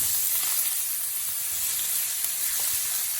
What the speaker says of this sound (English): I'm just going to add the onions in